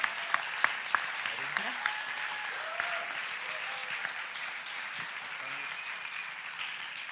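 An audience at a startup demo day applauds an award winner, with steady clapping from a crowd in a hall, a few sharper claps early on and voices murmuring and calling out beneath it.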